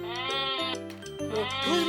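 In a children's farm-animal game, a sheep gives a short series of loud, close, wavering bleats.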